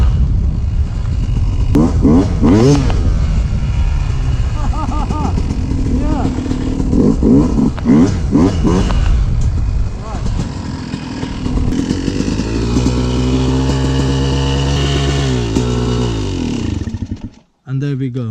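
A Yamaha YZ250 two-stroke dirt bike engine revs and rises in pitch while being ridden, loud and close, with a person talking over it and a steadier engine drone toward the end.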